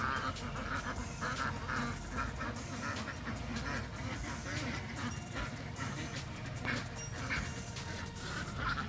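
A flock of ducks on a farm pond quacking in a dense, continuous chatter, with a dog yapping and whimpering in the mix, all heard at a moderate distance over a noisy outdoor background.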